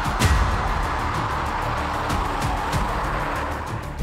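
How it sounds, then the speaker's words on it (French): A Mercedes-AMG S 63 E Performance limousine slides on the road, with a steady broadband roar of engine and tyres that holds loud and continuous throughout. "vous n'allez pas voir beaucoup de vidéos de classe S 63 AMG qui glissent sur 250 mètres"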